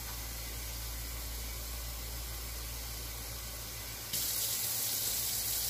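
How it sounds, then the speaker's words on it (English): Water poured into a cooking pot of cheesy chicken and gnocchi dumplings on a high stove, a steady rushing hiss that jumps louder and brighter partway through, with no talking. "So we will be adding some more water to this."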